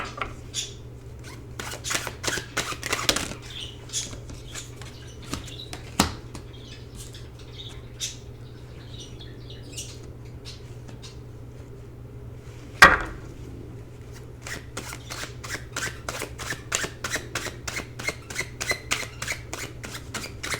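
Traditional playing cards are shuffled close up, producing quick flicking riffles and soft snaps in repeated bursts over a low steady hum.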